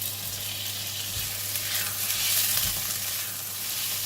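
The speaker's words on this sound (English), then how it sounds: "Stir fry until you can get the aroma of all the ingredients, especially for the kaffir lime leaves and the lemongrass" Kuey teow stir-fries in a hot wok with kaffir lime leaves and lemongrass, a continuous fairly soft sizzle with occasional stirring scrapes and a low steady hum beneath, no talking.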